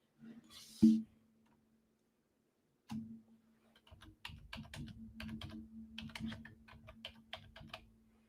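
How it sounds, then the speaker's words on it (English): A computer keyboard is typed on steadily for several seconds, with crisp close key clicks in an uneven rhythm, after a couple of isolated knocks and a quiet pause. "let me type this in"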